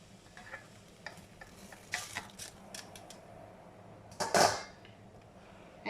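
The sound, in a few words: stirring tapioca in a pot of boiling water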